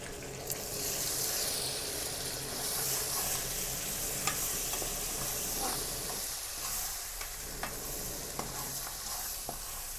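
Sliced onions fry in a pan as ginger goes in, a continuous close sizzle and hiss broken by occasional scrapes and clicks of a stirring spoon.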